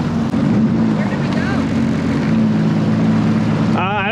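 Jet ski engine running on Lake Powell, a steady loud droning hum with a strong low tone, continuous throughout with wind and water noise, and a brief higher whine near the end.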